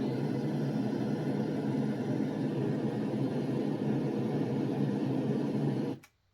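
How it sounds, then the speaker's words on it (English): A steady, dense red noise rushing sound from a Loftie device, weighted toward the low end, constant and loud, cutting off abruptly at the end. "Red noise."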